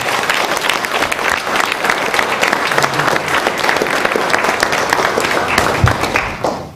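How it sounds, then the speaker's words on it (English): Steady, dense applause from a large audience at a business class graduation event, loud and sustained with crowd noise throughout before tapering off at the end. "Let's give them a round of applause."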